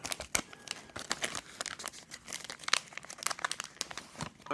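Crinkly plastic wrapper of a basketball trading card pack is crumpled and torn in a series of sharp, irregular bursts, close up, with no talking.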